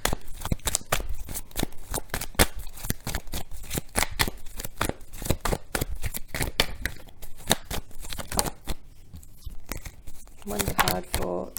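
Tarot cards shuffle rapidly and continuously, a dense run of crisp riffling flicks close up, with a short burst of talk near the end.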